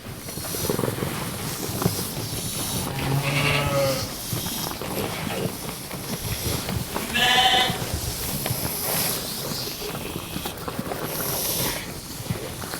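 A flock of sheep bleats repeatedly at varying distances over a steady outdoor background in Basque shepherding country near Idiazábal, with overlapping calls and no voices.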